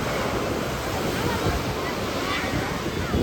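Sea waves roar continuously against the shore at Nishkalank Mahadev near Koliyak, Bhavnagar, during a fair, forming a broad steady surf with wind buffeting the microphone.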